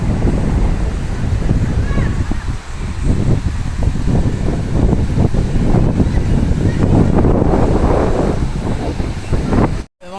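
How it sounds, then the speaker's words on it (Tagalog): Loud, steady rush of a strong river current flowing over marble rocks, with heavy wind buffeting the microphone throughout and no clear speech. "kasi yung agos dito sa tubig malakas"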